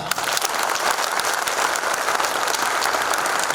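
Sustained applause from an audience at a meeting of bank gold appraisers, many hands clapping steadily at close range with no speech over it for the whole stretch.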